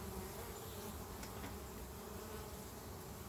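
A steady, dense hum of many honeybees buzzing together at close range, continuous and even throughout, with no voices.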